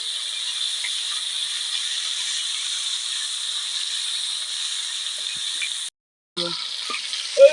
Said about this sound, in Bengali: ল্যাটা শোল কইকে আমি পুরো মরমরে করে ভেজে নেব